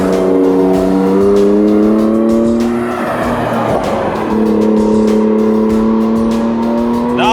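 BMW M4 fitted with an M Performance exhaust, revving loudly with a deep, bassy growl; sustained engine harmonics rise and fall across several seconds, steady and close, with no talk.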